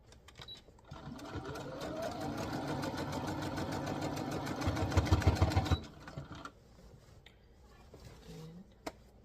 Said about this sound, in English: I'm gonna keep sewing around